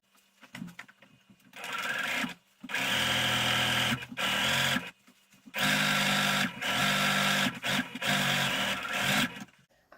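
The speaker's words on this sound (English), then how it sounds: "I am taking it back to the sewing machine and I am gonna" A sewing machine stitches a pillow in several loud bursts of rapid whirring, each lasting a second or two, separated by short pauses.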